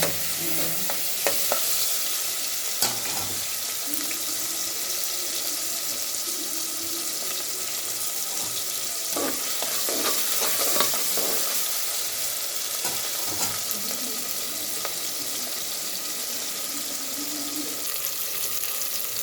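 Onions sizzle steadily in a hot pan, with scattered spoon scrapes and stirring clatter over a constant hiss.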